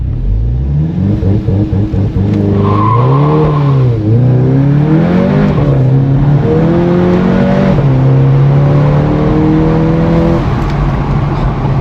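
A Volkswagen Jetta GLI with a Unitronic Stage 1+ tune revs up loudly on a dyno and holds high, the pitch climbing and wavering in steady surges, close and continuous with no talking.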